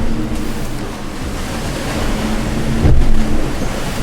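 Ocean waves wash steadily against the hull of a sailboat beating upwind, heard from inside the cabin as a continuous broad rushing with a low steady hum and one louder surge near the end, no voices.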